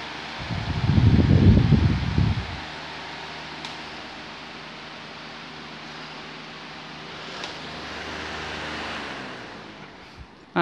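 A repaired electric fan runs steadily, giving a constant airy whoosh with a faint low motor hum, preceded by a brief louder rumble near the microphone at the start.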